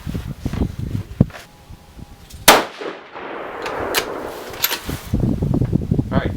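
A rifle chambered in 6mm ARC fires one sharp, loud report with a metallic ringing tail, set among softer clicks and handling clatter before and after.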